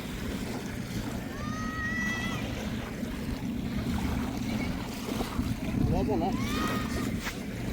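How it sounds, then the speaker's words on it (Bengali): Wind rushes steadily over the Arabian Sea shore while surf roars in a constant broadband wash, with bird-like chirps and brief voices at moments in the background. "শন শন শব্দ সাথে সাগরের গর্জনেরও শব্দ"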